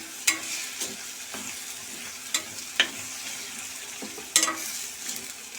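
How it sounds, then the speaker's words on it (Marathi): Masala fries in hot oil for an onion and papdi bhaji, a steady sizzle broken by several sharp scrapes and clinks of a spoon stirring the pan. "मसाला आपण तेलामध्ये परतून घेतला"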